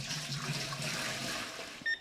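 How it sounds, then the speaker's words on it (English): Water gushes steadily into a pot used for acid wool dyeing, a continuous close rushing flow that stops abruptly, followed by a short electronic timer beep. "I'm going to add some water before I get more of the jars in there."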